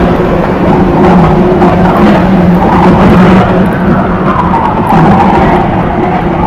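Heavy vehicles roar past on a highway between Bangalore and Cochin, heard from a bicycle, producing a loud, continuous rush of engine and tyre noise with no pauses.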